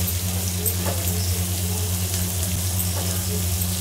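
Onions and chopped green chillies frying in a pan, a steady hiss and sizzle running continuously under a constant low hum, close and fairly loud with a couple of faint clinks.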